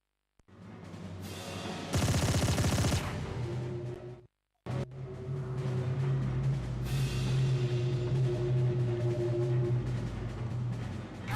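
Gunfire in the video game Tomb Raider Angel of Darkness comes as a short, sharp burst of rapid shots that stands out over a steady, humming game soundscape.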